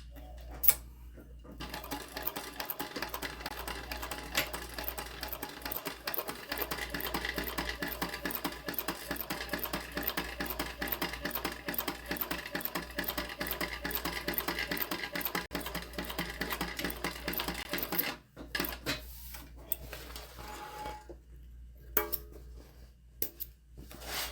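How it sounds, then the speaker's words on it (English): A sewing machine stitches down a pin pocket on a tote bag, a fairly quiet, steady run of fine rhythmic ticking that goes on for a long stretch before pausing, with a few clicks near the end. "So now we'll stitch down our pin pocket."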